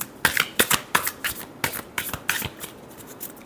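Tarot cards are shuffled by hand in a rapid run of crisp riffling snaps and flutters, close and fairly loud, with no talking.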